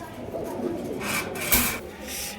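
Pigeons coo softly in a small loft while a chocolate-coloured hen pigeon is offered for sale, the low, rolling calls steady under a raspy background hiss, with a brighter burst of noise midway.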